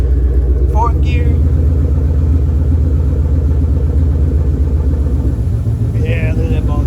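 A Ford Fox Body car's engine rumbles loudly and steadily up close as it is run through the gears. People talk over the low, continuous drone.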